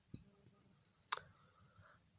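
Two sharp computer mouse clicks on a crypto wallet's claim button, a small tick early and a louder click about a second later, against a faint quiet background.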